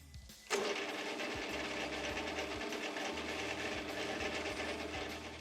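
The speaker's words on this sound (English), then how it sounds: "I'll get this thing pilot drilled for a boring bar" Pilot drilling a hole for a boring bar holder: a machine kicks in abruptly and settles into a steady, loud mechanical whir with a fine rhythmic rattle running underneath, alone with no voices.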